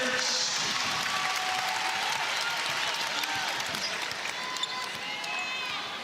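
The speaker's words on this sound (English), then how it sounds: "And just a great crowd on hand, as you have come to expect at South Carolina" A home crowd at a South Carolina basketball game claps and cheers in a bright, steady wash of applause that fades slightly toward the end, with faint arena noise underneath.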